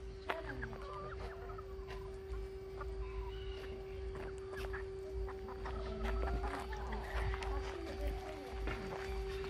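Wyandotte hens and roosters cluck and call in a garden flock, a busy scatter of short clucks near and far over a steady background hum.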